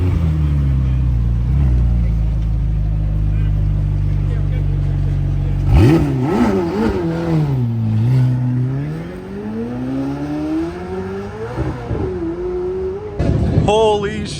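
A white McLaren P1 and a Koenigsegg supercar accelerate hard past a roadside spot, engines rising and falling in pitch as they pass close by, loud over a low steady rumble.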